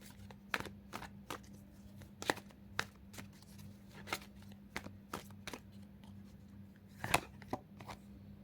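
Tarot cards being shuffled and picked during a card reading, a run of crisp, dry card snaps and riffles at an uneven pace over a low steady hum, with one louder flick near the end and no talking.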